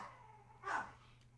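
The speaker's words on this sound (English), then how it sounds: "The dogs that I put in this room are now barking." A dog barks once from a nearby room, a single faint, muffled yelp over quiet indoor hum.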